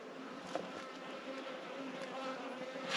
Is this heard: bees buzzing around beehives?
yes